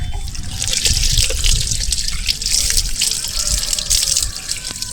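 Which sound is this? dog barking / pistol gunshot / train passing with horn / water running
water running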